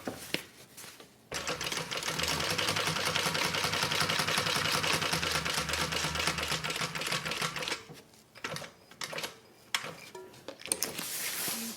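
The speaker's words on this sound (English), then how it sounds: "Then I'm going to just pivot and turn around and sew right back down." A sewing machine stitching a range bag, a fast continuous mechanical whir running for several seconds, then stopping and giving way to a few short bursts and clicks as the fabric is pivoted.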